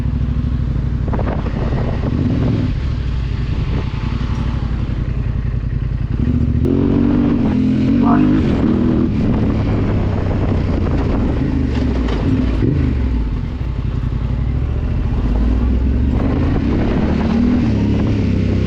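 Off-road motorcycle running with its exhaust baffle removed on a desert trail, a loud, steady, raw engine drone throughout with shifts in pitch as the throttle changes, plus wind buffeting.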